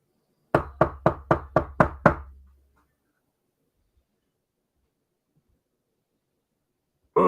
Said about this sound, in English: commands his captive to knock on the door